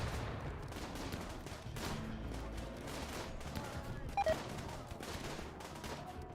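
Repeated grenade blasts and gunfire rattle through a RimWorld battle, a dense, continuous volley of muffled bursts and thumps at low volume, with no talking.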